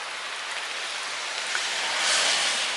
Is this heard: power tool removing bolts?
no